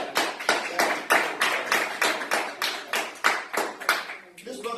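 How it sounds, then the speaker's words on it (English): A small audience at a book signing applauds in steady, distinct bursts of hand claps that swell and fade in repeated waves, fairly close and fairly loud, then taper off at the end. "Give that brother a nice round of applause right now"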